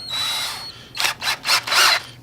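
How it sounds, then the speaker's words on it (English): A power drill pre-drills screw holes nearby: one longer whir, then three short bursts in quick succession. "And we're going to do a little pre-drilling."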